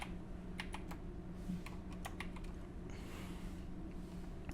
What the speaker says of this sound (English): Gotta wake up my keyboard.